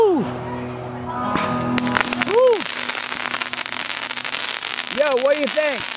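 Legal consumer fireworks and firecrackers crackle and pop in dense, rapid bursts that build after a quieter start and continue to the end, with people talking and calling out over the noise.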